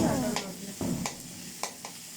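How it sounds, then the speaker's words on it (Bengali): Onion and garlic sizzle in hot oil while a spoon scrapes the pan in a few separate strokes, close by, with no one talking. "রসুন পেঁয়াজটা ভালো করে ভাজা হলে"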